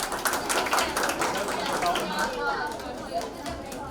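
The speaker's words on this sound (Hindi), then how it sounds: "तालियां हो जाए।" Children's audience at a kids' convention clapping in a brief scattered burst, mixed with chatter and lively voices in a hall.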